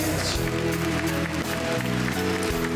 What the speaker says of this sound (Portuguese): Uma salva de palmas a São Pedro e São Paulo.